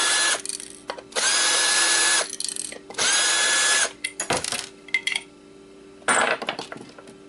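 Powered screwdriver backing screws out of a dead Xbox hard drive, several whirring bursts of a second or so each, close and loud, separated by clicks and metallic handling of small parts.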